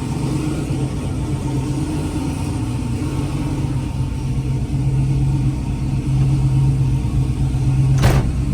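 A Chevrolet Camaro engine idles steadily after a coolant refill on pump gas, a loud, close, continuous low rumble with a slight rise in revs near the end and no talking.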